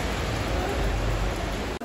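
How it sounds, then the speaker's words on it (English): Heavy rain pours down on an Alicante street with umbrellas out, a steady, close, broadband wash of rainfall without a break and with no voices over it. "it's raining like crazy"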